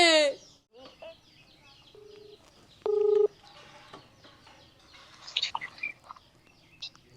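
A few short electronic phone keypad tones, two or three distinct beeps in sequence as a number is dialed, over a quiet room with faint background noise and brief rustles.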